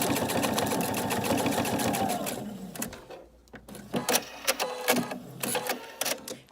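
A sewing machine stitches a pocket tissue holder, a fast rapid whirring chatter for a couple of seconds, then stopping to a few short bursts and clicks.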